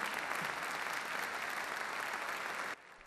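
A large audience applauds at the EXPO-2017 opening ceremony in Kazakhstan. The clapping is sustained and dense, heard from within the hall at even loudness, and stops abruptly near the end.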